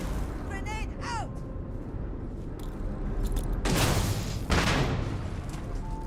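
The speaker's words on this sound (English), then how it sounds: "What are you throwing grenades at me for" Grenade blasts in the sci-fi shooter Starfield, broad booming explosions bursting twice in the second half over game ambience and a high whistling effect, with a voice speaking nearby.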